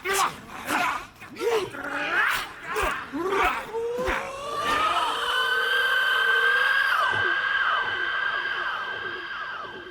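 A creature in Horizon Zero Dawn: The Frozen Wilds lets out a long, loud, wavering screech with shrill sweeping tones that sustains for several seconds, following a series of rhythmic pulsing calls.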